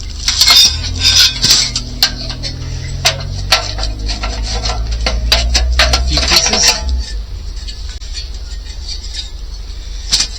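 Metal parts of an emergency heating stove clank and rattle as it is assembled, a dense run of sharp close clinks and knocks over the first seven seconds, then quieter handling with a low hum underneath.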